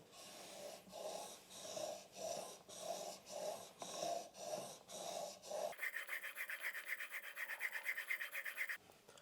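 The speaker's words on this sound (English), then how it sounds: "I will go back and forth like this, and I will use the whole of the stone." A chisel held in a honing jig is rubbed back and forth on a sharpening stone, giving a steady rhythmic rasping scrape with about a dozen even strokes, then quicker, brighter strokes toward the end, close and alone.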